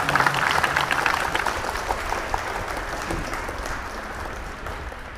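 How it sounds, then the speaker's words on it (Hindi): Audience applause at a Pakistani racing pigeon club prize distribution, steady continuous clapping from many hands that holds loud and then slowly eases, with no speech over it. "भरपूर तालियां इन तमाम क्लब्स के लिए, कामयाब सीजन के लिए।"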